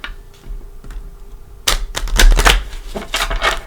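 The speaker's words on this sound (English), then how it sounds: "One more little shuffle." Tarot cards being shuffled up close: a few soft taps and riffles, then a louder burst of rapid flapping and clattering card noise that runs to the end, with no speech.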